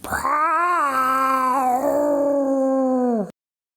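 A cat gives a single loud, drawn-out meow close by, rising at first and then holding steady before cutting off abruptly.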